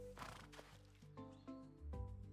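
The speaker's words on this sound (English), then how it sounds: "Oh, hi, horse." A horse in the farming video game Roots of Pacha gives a few short whinnies and snorts, near and moderately loud, with tonal calls in brief bursts.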